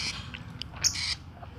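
A lovebird gives a few brief, sharp chirps and squeaks over a low background rumble, fairly faint and scattered across a short moment.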